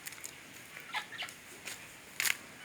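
Several chickens cluck in short, scattered bursts, fairly faint and at a little distance, with one louder squawk near the end.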